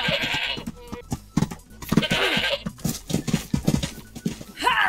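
Sheep bleating in a survival video game on a multiplayer server, several short bleats mixed with other animal cries and hoof-like clops, heard under a man's speech.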